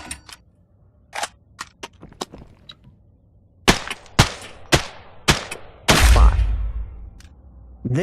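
SKS rifle gunfire in a video game: sharp single shots, some in quick pairs, with gaps between them. The shots grow louder and denser, and a sustained rumbling burst comes near the end.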